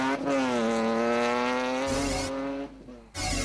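Toyota Hilux off-road race trucks at a desert-style rally, one powering away with a loud, steady engine drone that shifts pitch as it accelerates, then a brief dip and a renewed roar close by.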